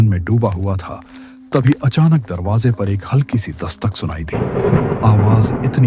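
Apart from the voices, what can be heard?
thunderstorm with heavy rain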